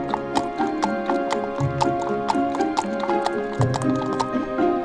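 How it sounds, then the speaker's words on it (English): Horses clip-clop away in a light, quick run, steady hoof taps close by with a soft low rumble under them. "The horses were scared, so ran off."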